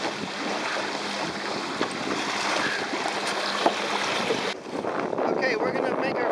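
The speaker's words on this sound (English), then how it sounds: "it's a little bit windy right now" Strong wind roars steadily across the microphone while sailing an MX-Ray dinghy on Barnegat Bay, with water rushing beneath and a brief gust-driven shift in tone near the end.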